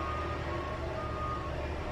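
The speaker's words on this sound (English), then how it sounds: "That truck is definitely going up my street." A heavy truck rumbles up a residential street close by, a loud, steady low engine drone filling the whole moment with constant road noise.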